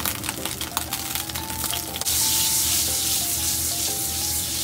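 Butter melts in the same frying pan used for the squid, hissing first with scattered crackling pops, then swelling into a steady, loud sizzle that holds to the end.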